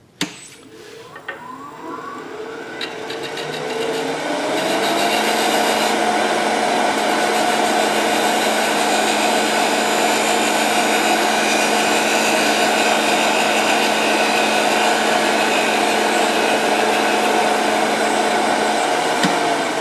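Wood turned on a lathe while shaping a secret ball box, the tool cutting with a steady, loud whirring hiss that builds in the first few seconds and then holds unbroken to the end.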